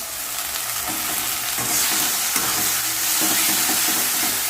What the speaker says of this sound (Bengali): এই যে মশলা কষানো হচ্ছে, পেঁয়াজ আগে ভেজে নিয়ে মশলাটা কষিয়ে নিচ্ছি